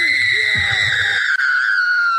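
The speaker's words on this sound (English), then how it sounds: "It's a battle cry with echo." A loud, sustained high-pitched scream used as a battle cry, with a ringing echo trailing through the second half; a voice sounds underneath at the start.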